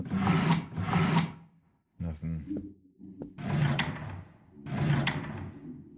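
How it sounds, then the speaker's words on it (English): Loud drawers slide open and shut several times in bursts of harsh scraping rumble close by, broken by short pauses and clunks. "That's a loud ass fucking drawers."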